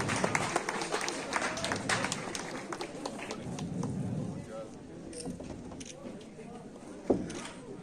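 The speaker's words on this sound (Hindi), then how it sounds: "तालियों के साथ स्वागत किया जाए" A crowd applauds to welcome a guest of honour at a Meri Mati Mera Desh school programme in Thathri, Doda, with dense clapping that thins after a few seconds, people talking through it and a sharp knock near the end.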